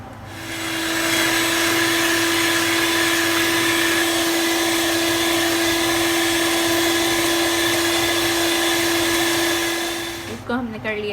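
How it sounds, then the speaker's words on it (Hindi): Eggs and sugar beaten together for steamed egg pudding with a steady electric mixer or blender whine, loud and continuous for about nine seconds before it cuts off near the end. "अब हम इसमें ऐड करेंगे चीनी और इसको हमने करना है बीट।"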